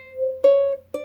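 Ukulele string fretted to a shorter length, giving higher notes: a sustained tone first, then two fresh plucks with bright harmonics, close and clear with no talking.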